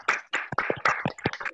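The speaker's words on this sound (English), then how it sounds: "You can unmute to clap" Online attendees unmute and clap after a nursing innovation pitch, giving a brief, quiet scatter of irregular claps that sound thin and close, as if through computer microphones.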